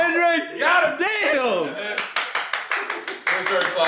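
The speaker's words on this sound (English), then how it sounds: "Clapping." After a voice speaks, a run of sharp, rhythmic hand claps follows, about a dozen in quick succession, close and loud.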